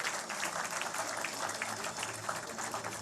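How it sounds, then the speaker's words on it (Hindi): Audience applause at an export awards ceremony, a dense continuous clapping crowd filling the room at steady volume, with no speech over it. "आप सबकी भरपूर तालियों में स्टाइल टेक्सटाइल प्राइवेट लिमिटेड दावत देना चाहूँगी शहजाद सलीम असगर साहब को।"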